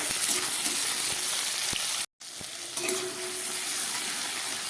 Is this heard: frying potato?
yes